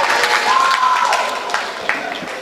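An audience at a Deobandi All India Mushaira poetry gathering claps in a dense, steady round of applause that is mostly even. A brief tonal whistle-like sound rises within it, and the applause tapers slightly near the end.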